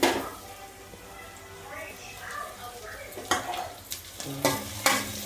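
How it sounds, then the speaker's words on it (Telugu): Curry leaves go into sizzling oil in a pan while cooking egg bhurji curry. A steady frying hiss runs throughout, and sharper clatters and scrapes of stirring build up toward the end. "మనం వచ్చేసి కరివేపాకు వేస్తున్నామండి"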